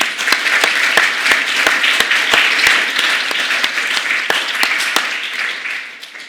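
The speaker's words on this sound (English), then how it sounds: "Let's give them all a big round of applause." Audience clapping at an education report launch, a close, even round of applause with sharp individual claps standing out regularly against the broader crowd clapping throughout.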